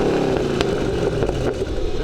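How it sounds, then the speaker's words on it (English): A 2012 Chevrolet Camaro ZL1 with a 580-horsepower V8 revs loudly and continuously, a deep engine roar with rising and falling pulls and no pauses. "I prefer the sound of the V8."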